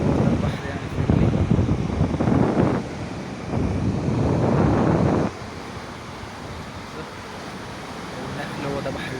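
Mediterranean waves break on Al-Rissa beach in Arish under strong gusts hitting the microphone, giving a loud, rough rush that surges in bursts for about five seconds and then drops to a steadier, quieter roar.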